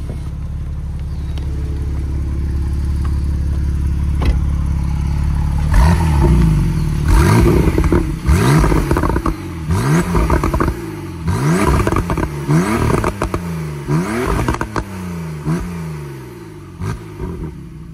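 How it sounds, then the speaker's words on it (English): A 2019 Porsche 911 Targa 4S in sport mode with valves open, starting with a steady idle before a string of sharp throttle blips that rise and fall quickly, each ending in pops, loud and close. "Give a few revs as well, because I know that was a request."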